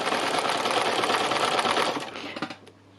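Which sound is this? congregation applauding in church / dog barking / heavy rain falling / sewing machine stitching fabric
sewing machine stitching fabric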